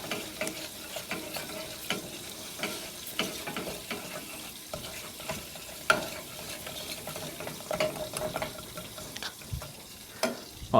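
Sauce is whisked into pork chop fried rice in a hot pan, with soft rhythmic scraping and clinks over a quiet, steady sizzle.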